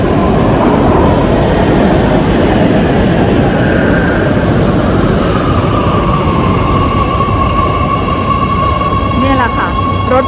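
A regional commuter train in Sweden rolls into a station with a loud, steady rumble of wheels on rail. A rising tonal whine and a brief squeal come near the end.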